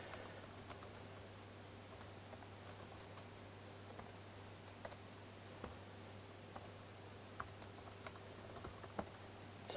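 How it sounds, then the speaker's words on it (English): Computer keyboard typing, quiet scattered key clicks tapping irregularly over a low steady electrical hum, with no voice. "So I'm typing that again just because it's worthwhile for us to see."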